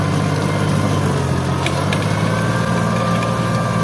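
A Fiat Turbo 480 tractor engine labors under load while ploughing a dry, hard field, giving a steady, loud, close droning rumble with no breaks and no voices.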